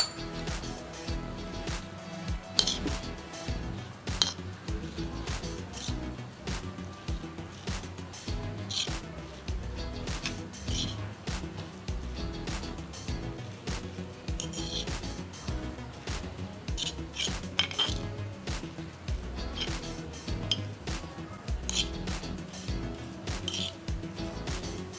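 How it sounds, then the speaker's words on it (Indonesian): Tamarind water being stirred with coconut in a bowl gives a steady stream of light clinks and scraping rubs, close and continuous, with no talking. "Lalu air asamnya kita aduk bersama kelapanya."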